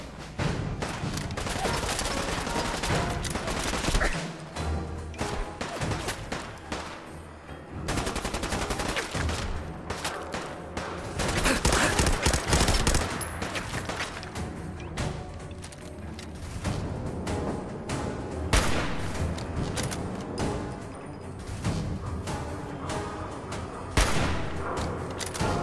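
Dense Fallout 4 gunfire, rapid bursts and volleys of shots with mechanical clanks and explosion booms, continuous and loud with almost no pauses.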